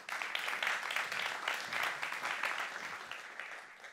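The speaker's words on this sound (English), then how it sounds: "Can you please give a bigger round of applause for Lionel?" An expo crowd at a company pitch event gives a sustained round of applause, a dense wash of many hands clapping at a steady moderate level, slightly distant and without voices.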